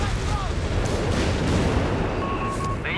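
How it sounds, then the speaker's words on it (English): Dense battle noise from Company of Heroes 3, with anti-tank guns firing amid continuous booms, rumbling explosions and gunfire, loud and unbroken, while a commentator talks over it. "A lot of anti-tank fire."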